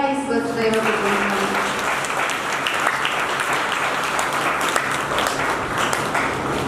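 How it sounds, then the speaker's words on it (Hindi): Loud, dense applause from a crowd at a spiritual talk in Hisar, steady and sustained throughout, with a voice briefly audible at the start. "जोरदार तालियां"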